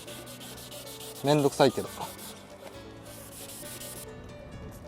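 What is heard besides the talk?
sanding a yellowed car headlight lens by hand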